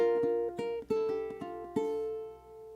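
A ukulele plays bar 4 of a song, a handful of bright plucked and strummed notes in a quick rhythmic figure, close and fairly quiet, with the last note left ringing and no voices.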